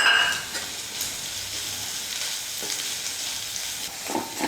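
Onion and grated coconut sautéing in a pan for thavala vadai, a steady sizzle with scraping stir sounds running throughout, close and moderately loud with no voices.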